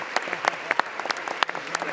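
A small child's uneven claps ring out in the House gallery at a congressional swearing-in ceremony, scattered single smacks over low background murmur and a trace of voices.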